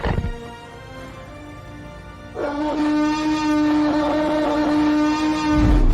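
A movie-style T-Rex roar effect: a long, loud, harmonically rich bellow with a steady low tone that swells in, holds for several seconds and ends on a heavier growl, with no talking.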